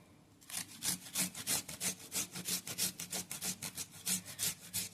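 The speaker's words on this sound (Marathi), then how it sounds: "हे पहा, एवढं आलं घ्यायचंय आणि हे किसून घेणार आहे।" Fresh ginger, about half an inch, grated by hand for a fasting thali, giving a rapid, even run of close, rasping scrapes, roughly four strokes a second, with no talk over it.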